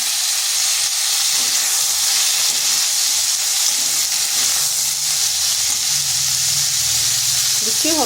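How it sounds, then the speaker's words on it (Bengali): Broad beans tossed into a pan of lightly fried potatoes, a loud, dense and continuous hissing sizzle close by, with faint scraping underneath. "আলুগুলো হালকা ভাজা হয়ে গেছে, দিয়ে দিচ্ছি সিমগুলো।"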